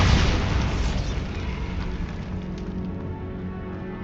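A Bombarda spell explodes in the video game Hogwarts Legacy, giving one loud, deep boom that rumbles and slowly fades over several seconds.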